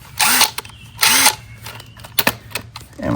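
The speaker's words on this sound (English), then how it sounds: "Make sure I turn my driver the right way." Close, loud bursts of a power driver fastening lawnmower blades, two longer whirring pulls followed by shorter clicks and quick zips of the motor.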